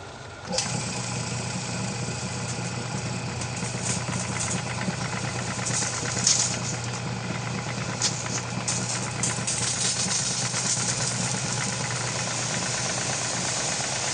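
A car wash pressure washer runs steadily close by. Its motor makes a loud, even drone that continues without a break.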